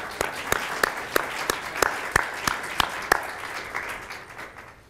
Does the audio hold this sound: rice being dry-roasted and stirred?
no